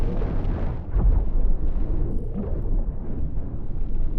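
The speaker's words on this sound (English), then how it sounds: "Some stray deck cannon rounds hit the thrusters there" In a naval battle video game tournament, deck cannon rounds strike a ship's thrusters with a heavy, continuous booming rumble, dense explosive impacts rolling together loudly throughout.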